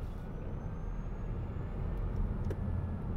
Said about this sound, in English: What you're hearing is the whirring sounds of the actual electric motors